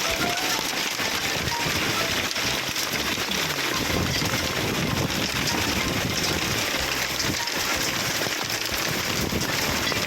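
Heavy rain comes down in a sudden downpour during a hot summer, a steady broadband wash with faint patter that persists throughout, with some faint voices beneath it.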